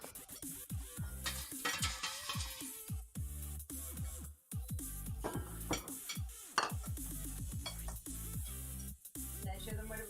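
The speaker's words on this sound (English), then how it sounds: "she's stirring it up" A low-fat cinnamon curry is stirred in a pot, with a spoon scraping and clattering against the metal in quick irregular strokes over a faint sizzle, close and busy with no talk.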